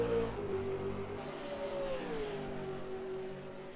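V8 race cars accelerate around Sydney Motorsport Park at night. The engines give a steady, droning whine that shifts in pitch as they pass, moderately distant.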